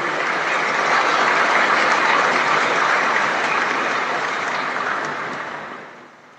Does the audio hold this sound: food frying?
no